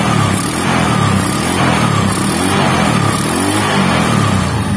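A Honda Megapro motorcycle engine revs hard with its headlight switched on, on a bike with a lighting fault. The close, loud, continuous mid-pitched engine roar swells and holds steady, with no voices over it.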